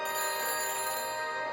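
Ringing tone from a phone call placed through a phone helmet in Back to the Future: The Game, a steady electronic ring that fills the short stretch on its own.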